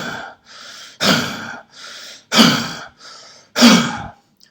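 Deep rapid breathing exercise: six forceful breaths in quick rhythm, short quieter inhales alternating with loud rushing exhales, close to the listener, with no talking.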